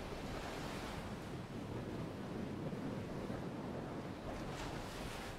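Sea waves wash continuously onto a beach, a dense, steady roar of surf with some wind, even in loudness throughout and with no talking.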